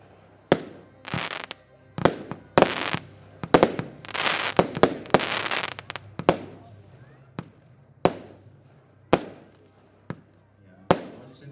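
A Rumble fireworks battery firing 19 shots in quick succession at an outdoor demonstration, sharp bangs with crackling bursts clustered in the middle, then single reports spaced about a second apart.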